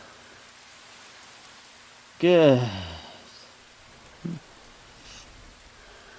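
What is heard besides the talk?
rain in the video game Epiphany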